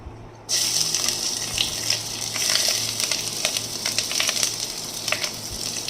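Marinated rice for sweet pulao fries in ghee with a loud, steady sizzle that starts suddenly after a brief quiet moment. Faint scraping and stirring crackles sound close by, with no talking.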